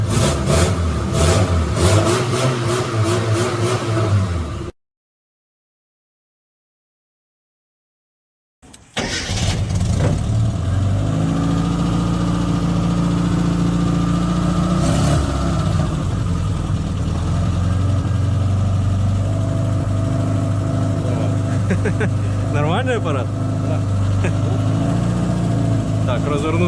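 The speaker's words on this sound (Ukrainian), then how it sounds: "машинка потрошку гріється, на ручку газу вже реагує нормально" A car engine warms up and answers the throttle with repeated revs over a steady idle, loud and close, with a brief dead gap early on before the engine noise resumes.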